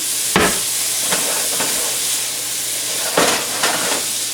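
Leftover fried rice with garlic and Italian herbs sizzles steadily in a hot pan, a continuous close hiss with occasional louder bursts of crackle as it is stirred.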